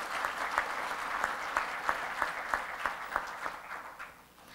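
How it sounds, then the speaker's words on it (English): Audience at a UNESCO Merck Africa research summit applauding young students, a sustained round of clapping with distinct individual claps, moderately near, with faint murmur underneath. "Let us give them all round a big round of applause."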